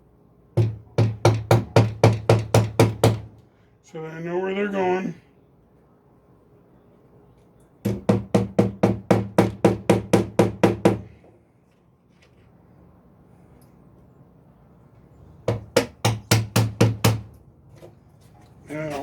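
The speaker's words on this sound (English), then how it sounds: "I'm going to take my hammer, and I actually want to start these nails" Hammer blows drive nails into a wooden doghouse under restoration, struck in three quick bursts of about ten sharp, even raps each, separated by pauses, with brief talk between bursts.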